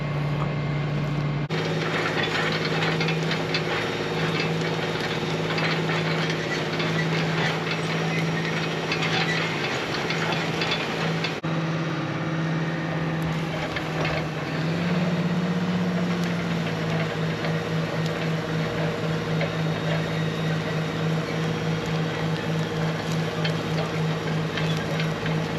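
A strip till implement works a narrow strip of field for corn planting, its tractor engine droning steadily and loudly with a constant low hum and rattling mechanical vibration throughout.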